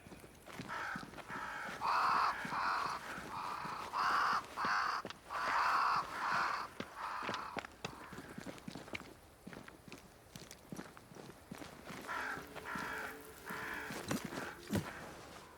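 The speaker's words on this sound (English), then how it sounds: "Crows. They flock to that great tree up there." Crows cawing in a flock near a great tree in the video game Banishers: Ghost of New Eden; repeated hoarse caws in short bursts, some nearer and some farther, with footsteps crunching throughout.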